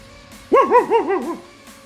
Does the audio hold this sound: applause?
no